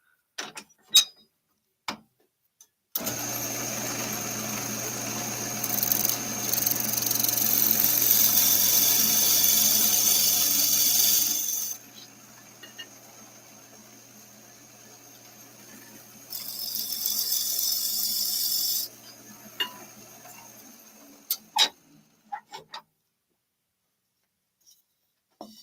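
A woodturning lathe hums as its motor runs, while a tool scrapes the spinning wood in a long hissing burst and then a shorter one. Scattered ticks and knocks come before and after.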